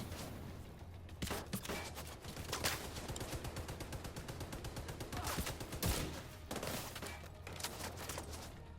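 Gunfire in a Division 2 third-person shooter using a headhunter build: a dense, steady stream of rapid shots with a few louder cracks among them, fairly faint and continuous throughout.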